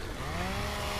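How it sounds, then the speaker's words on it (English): Chainsaw revving in the Gears of War video game, a steady buzzing drone that fills the short moment at close range with no talk over it. "I was literally trying to chainsaw him as he walked up on me with his chainsaw"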